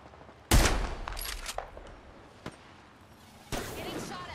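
Gunfire in the Apex Legends battle royale game: a sharp loud burst of shots opens, followed by scattered single cracks and impacts, then another heavy volley near the end, with a voice talking faintly underneath.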